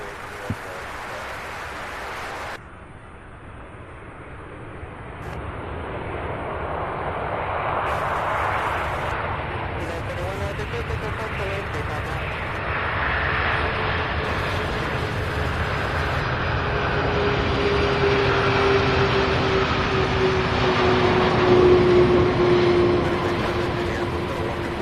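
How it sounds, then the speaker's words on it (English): A Boeing 747 landing at Louisville International Airport sends a broad jet roar that swells slowly and stays loud, with a rising engine whine near the end as it passes close, while a voice talks briefly at the start. "our third 747 of today's stream getting ready to land right now"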